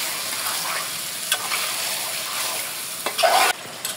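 Beef pieces frying in a little oil, a continuous close hiss with occasional scraping stirs that grow louder toward the end.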